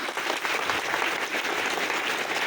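Students and guests at an intercollege assembly in Mahoba clap for mothers, a dense, even round of applause from a sizeable crowd lasting a couple of seconds.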